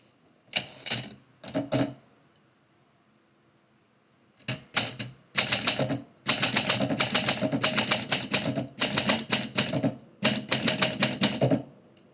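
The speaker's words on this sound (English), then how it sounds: "This is typewriter poetry." Rapid mechanical typewriter keystrokes in bursts, with short pauses between runs and a few sharp clacks; close and fairly loud, no voices.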